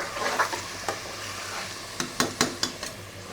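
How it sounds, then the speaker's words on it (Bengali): Rice frying in a hot pan for pilau, with a steady sizzle under a run of sharp scraping stirs from a spatula, the strokes coming in a quick cluster near the end. "চালটা ভেজে নিচ্ছি সুন্দর করে"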